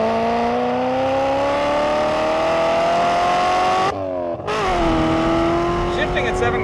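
A 1985 C4 Corvette kart engine revs up loudly, climbs in pitch, breaks briefly at a gearshift, then pulls again. Nearby and dominant, with a voice heard over it.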